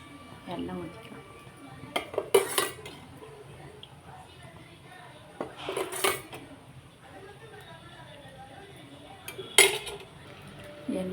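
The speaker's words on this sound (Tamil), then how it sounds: "இப்போ மண் சட்டி வச்சுக்கலாம். காயட்டும். மண் சட்டியில் எண்ணெய் ஊற்றிக்கலாம்." A clay pot set down on a stove with clinks and scrapes of cookware, followed by oil being poured in for South Indian vendakkai puli cooking; a few sharp knocks stand out over faint background noise, with people talking quietly.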